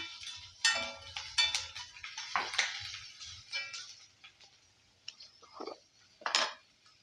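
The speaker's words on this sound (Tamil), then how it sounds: "கொஞ்சம் கருவேப்பிலை இதை இப்போ நம்ம வதக்கி எடுத்துக்கலாம்" Curry leaves and chilies sautéing in a pan for a lunchbox side dish, heard as a series of close, irregular metallic clinks and scrapes of a spatula against the pan with soft crackling between them.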